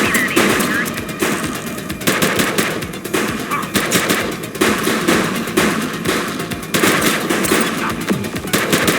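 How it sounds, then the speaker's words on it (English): Rapid gunfire in the police game The Precinct, dense bursts of automatic shots in quick clusters with brief gaps, loud and close, with shouted voices underneath. "Light him up! He's shooting!"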